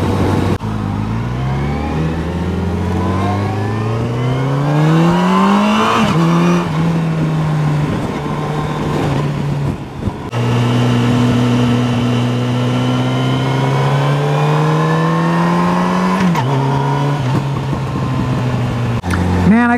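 A 2015 Yamaha FJR1300 motorcycle engine hums steadily while riding, its pitch rising through acceleration and settling into smooth cruising, with a brief dip around a gear change; loud and continuous, with wind noise and a rider talking over it.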